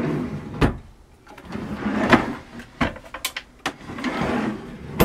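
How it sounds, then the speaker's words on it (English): Long wooden drawers built from scrap wood slide open and shut in a home, giving several close, distinct knocks and scraping slides spread across a few seconds, with a soft hollow clunk as each one stops. "These are nice long drawers made out of scrap wood."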